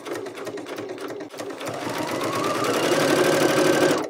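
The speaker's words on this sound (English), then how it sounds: "I'm going to go back and I'm going to stitch right over that." A sewing machine stitches steadily through a folded seam on a mixed-technique fabric project, its needle running in a fast continuous whir that builds slightly louder toward the end, close and alone with no talk.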